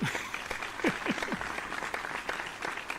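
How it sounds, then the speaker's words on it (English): A small group gives light, scattered clapping at a comic con fan gathering, with soft overlapping claps and a few brief voices murmuring underneath. "Golf clap. Golf clap. Golf clap."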